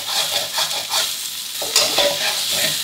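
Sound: stir-frying canned fish fried rice in a wok

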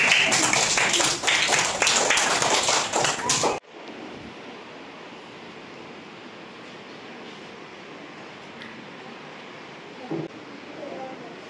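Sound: class clapping

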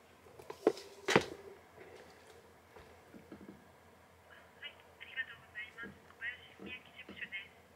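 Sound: telephone ringing during a phone call to a party office

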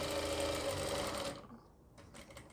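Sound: sewing machine stitching a reusable baby diaper

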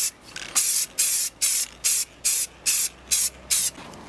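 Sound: spray painting a mask copper colour

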